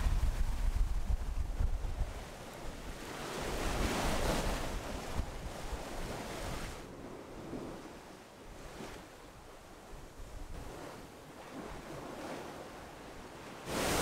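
Sea waves and wind rush past a sailboat on the Mediterranean in a continuous broadband wash, with gusty wind buffeting the microphone and louder surges at the start and around four seconds.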